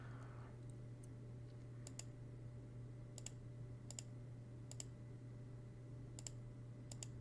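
Sharp, isolated clicks of a computer mouse sound at irregular intervals while working through a virtual machine software setup, over a steady electrical hum with no voices.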